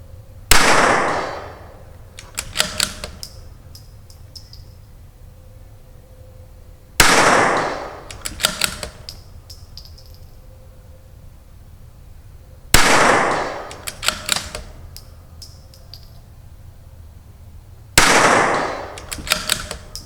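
A CZ 457 .22LR rifle fitted with an ATS tuner fires four sharp, loud cracks spaced about five to six seconds apart outdoors, each shot followed by a brief metallic ring or echo.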